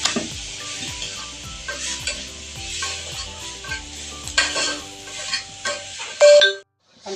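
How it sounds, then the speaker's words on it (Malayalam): Porotta flatbread heats on a dosa griddle with a soft steady sizzle, punctuated by scraping and clinking of a utensil and a brief metallic clatter just before a sudden near-silent gap. "പൊറോട്ട നമുക്ക് ദോശക്കല്ലിൽ ചൂടാട്ടോ"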